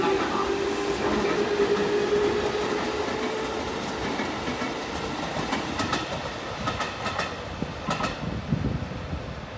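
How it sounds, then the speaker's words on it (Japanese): An eight-car rapid train rumbles and clatters as it slows into a platform at Tajimi Station, Japan, with wheel clicks and a faint high squeal over steady rail noise. "まもなく1番線には快速列車が参ります"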